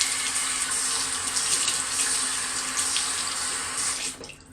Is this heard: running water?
yes